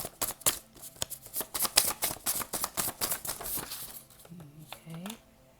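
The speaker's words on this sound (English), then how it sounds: "I'm going to shuffle the cards one more time." A deck of cards is shuffled in a rapid run of crisp riffling flutters, close and clear, before a voice begins speaking as the shuffling fades.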